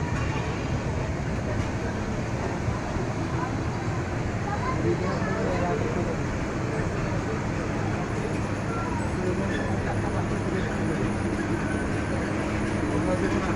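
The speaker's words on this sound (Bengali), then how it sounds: "দেখতে পাচ্ছেন লোকোমোটিভ 3024 লোক নিয়ে লালমনি এক্সপ্রেস প্রবেশ করলো।" Lalmoni Express drawing into a station behind locomotive 3024, a steady, loud rumble of rolling rail cars and engine noise that holds without break, with voices faintly mixed in.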